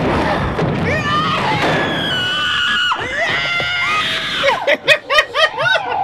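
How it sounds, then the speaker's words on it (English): Screaming in a horror movie, with shrill overlapping cries and thuds over dense dialogue and music, then a run of sharp, loud, pulsing shrieks near the end. "Who's screaming at who?"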